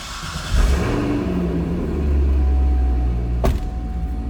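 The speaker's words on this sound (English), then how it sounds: "Hear that Corsa exhaust?" A 2010 Chevrolet Corvette Grand Sport convertible with a Corsa exhaust rumbles deep and close indoors, swelling steadily, with a sharp click near the end.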